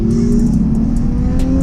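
Porsche 911 Turbo S engine revving loudly and close by, a steady deep mechanical roar with a strong low tone holding throughout.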